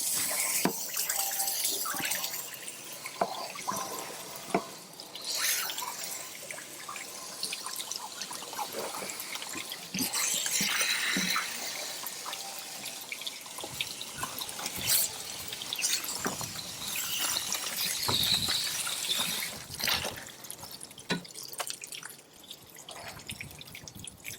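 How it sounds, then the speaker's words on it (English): Water sprays and splashes continuously from a washing wand rinsing out the hot water tank of a Sabre fifth wheel RV, a steady hiss broken by irregular drips, gushes and clattering debris flushing out. "This goes inside the hot water tank and you rinse it out thoroughly."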